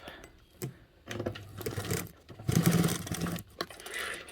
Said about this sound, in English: I just sew as close to the edge as I can to close it up.